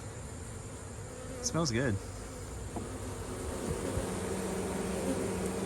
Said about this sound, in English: a few bees doing their thing, circulating some air, circulating some pheromones from the hive